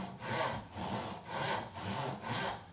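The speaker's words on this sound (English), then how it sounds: "start doing longer strokes. So light pressure, remember, light pressure" A hand saw cuts through wood with long, light strokes forward and back, each rasping pass swelling and fading in a steady rhythm, close and alone.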